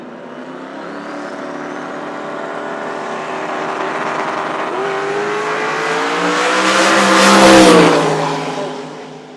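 Drag racing cars launch at a no-prep event at Toronto Motorsports Park, a Corvette among them, engines droning at rising pitch and swelling to a loud roaring peak before easing off, with no talk.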